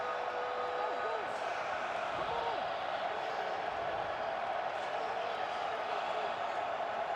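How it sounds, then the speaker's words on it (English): A St. Louis BattleHawks stadium crowd at an XFL football game roars in a loud, continuous wall of cheering that holds steady throughout, with a commentator talking over it. "It's maybe the loudest this BattleHawk crowd has been all afternoon."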